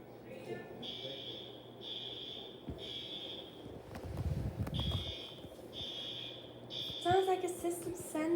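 A hotel fire alarm horn sounds in repeated loud electronic blasts with short gaps between them, over background noise and a burst of rumbling wind in the middle.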